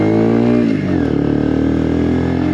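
Honda CBR125 motorcycle engine revving through its exhaust, a steady close buzzing drone with rising and falling pitch held loud throughout.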